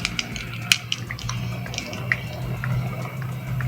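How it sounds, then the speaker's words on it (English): A Mr. Coffee coffee maker starts brewing, and water sizzles and crackles on its heating plate. Soft irregular pops and drips sound over a low steady hum, close and fairly quiet. "we hear some sizzling from the water on the heating plate"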